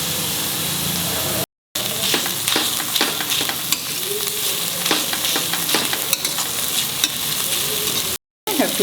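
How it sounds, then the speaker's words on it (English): Dried shrimp sautéing in a pan for curry, a steady close sizzle broken by repeated scraping stirs of a spoon, with two brief silent cuts. "saute this till it becomes soft"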